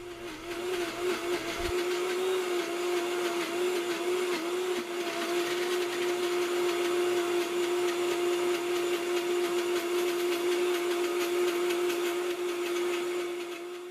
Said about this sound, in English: Ramp up the personal blender to speed 10 and use the tamper to help mix the chocolate in.